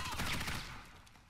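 A short burst of rapid gunfire from an XM8 light machine gun in Warface, loud at first and trailing off within about a second.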